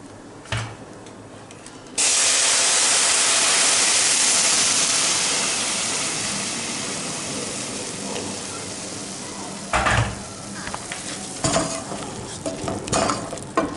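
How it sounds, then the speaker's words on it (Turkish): Hot water poured into a pot of diced meat searing on the stove sets off a sudden loud hiss and sizzle. The burst slowly fades as it steams, and a few clanks and stirring knocks follow. "Üzerine biraz daha sıcak su ilave ediyoruz."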